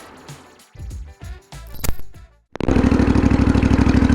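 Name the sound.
motorcycle engine with custom exhaust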